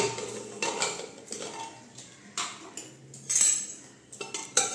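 Metal clanks and clinks of a steel pressure cooker being handled and opened after cooking dal, a series of sharp knocks and rattles close by with faint scraping between.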